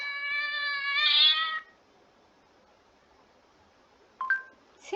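A cat's meow is played back from an animal sounds app: one long, clear meow, then a short, quieter chirp-like call after a pause of near silence.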